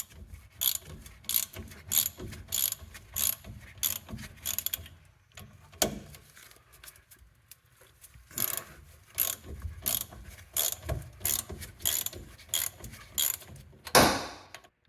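Ratchet wrench clicking rapidly in repeated bursts while removing suspension nuts on a 1991 Honda Acty mini truck, close and clear, with short pauses between runs.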